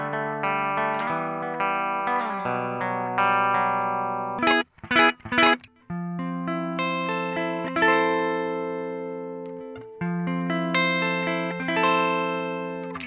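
An electric guitar through a VOX Valvenergy Silk Drive overdrive pedal ahead of a Koch Pedaltone preamp plays mildly driven chords and melodic runs, with a brief burst of quick choppy strums in the middle, loud and close with no talking.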